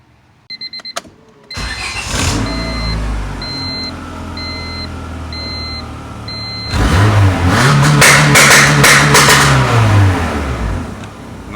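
A car engine fitted with a Bee R two-step rev limiter is started and revved hard, bouncing off the limiter in rapid stuttering pops. Electronic beeps come before it, and a second louder burst of revving follows, close and loud.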